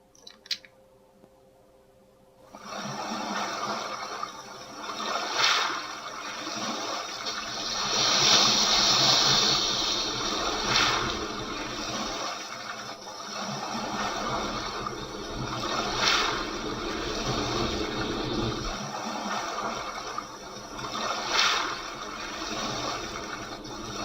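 Ocean-like wash of synthesized surf built on the ATOMS synthesizer swells in after a brief quiet, a continuous hiss and rumble with periodic surging waves rising and receding.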